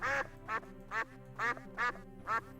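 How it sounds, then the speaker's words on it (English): Cartoon duck quacks from the 1993 DOS adventure game Simon the Sorcerer, five or six evenly spaced squawks about half a second apart over a soft game music bed, with no talking. "And it has ducks."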